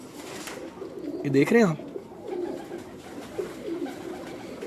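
Salara pigeons in a Gujranwala loft give soft, low coos, faint and intermittent beneath someone speaking nearby.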